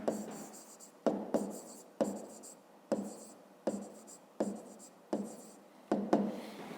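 A pen scratches across paper during a math lesson, writing in short bursts that start sharply and trail off, about eight strokes at a steady, close pace.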